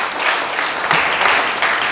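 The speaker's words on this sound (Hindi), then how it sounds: "ताली बजा दो" Audience clapping at a Vestige network marketing leadership training session in a hall, a steady dense burst of many hands lasting about two seconds, fairly loud and unbroken, with no talking over it.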